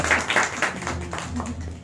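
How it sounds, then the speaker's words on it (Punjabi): A few quick hand claps ring out for a child on a family interview show, brief sharp applause overlapped by speaking voices. "ਓਹੋ, ਤਾੜੀਆਂ ਮਾਰੋ"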